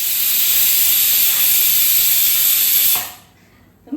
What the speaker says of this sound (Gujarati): તો હવે આપણે કુકરની 3 થી 4 વિસલ બોલી જાય ત્યારબાદ મળીએ.